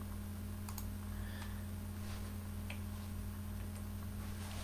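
Quiet keyboard keys click in sparse, irregular taps over a steady low electrical hum, faint and close, with no one speaking.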